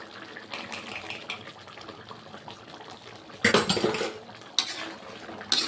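Spoon clinks against a pot as ghee is added to papaya and potato curry, with quiet stirring first, then a burst of metallic scraping and a second sharp clatter close by.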